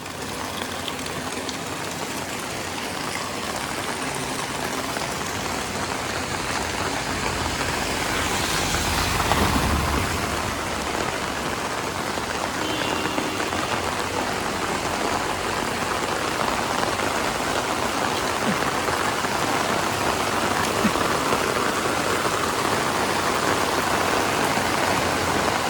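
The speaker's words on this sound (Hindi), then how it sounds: "बहुत ज़्यादा बारिश हो रही है" Heavy rain pours steadily during a flood and landslide in Uttarakhand, a dense continuous hiss of drops on surfaces with a faint engine rumble beneath, no voices.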